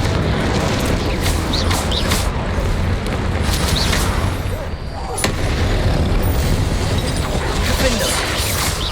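Booming Confringo blasting spell explosions in Hogwarts Legacy, dense rumbling blasts and crackling debris in a dense, loud stretch with a brief dip midway, under a busy game soundscape.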